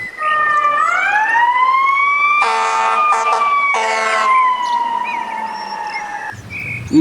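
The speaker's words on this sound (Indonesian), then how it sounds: "Widih, mobil pemadam kebakaran." A toy fire engine's electronic siren wails loud and close, rising then holding a steady tone, with a burst of rapid pulsing in the middle before it cuts off.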